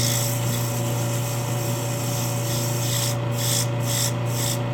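Steady, continuous abrasive rubbing of sandpaper on an aspen wood bowl, close and fairly loud, with a faint rhythmic pulsing toward the end.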